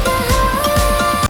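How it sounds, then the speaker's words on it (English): A short looping electronic pattern of crisp hi-hat and clap hits drenched in reverb over a steady tone, close and punchy, ending abruptly. "It's just a combination of a hi-hat and a clap with a lot of reverb."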